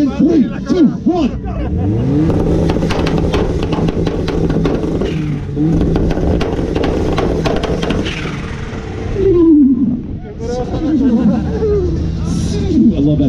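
A Mazda Miata engine revs up loudly and holds, then revs again, with a crowd murmuring in the background at an import car show in Tucson, Arizona.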